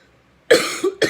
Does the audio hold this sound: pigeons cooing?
no